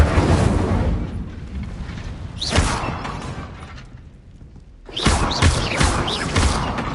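Incendio fire spell cast in Hogwarts Legacy, a loud roaring whoosh of flame with rumbling bursts, fading then erupting again in a second blast, with no talk.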